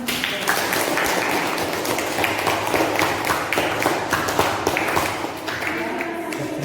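A classroom group applauds together in a steady, dense wash of clapping that fills the room, with a brief dip near the end before continuing.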